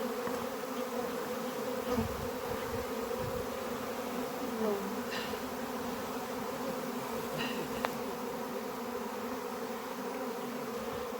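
A swarm of honey bees hums steadily and densely around a quince tree in a village, a continuous close buzzing drone with occasional individual bees passing nearby.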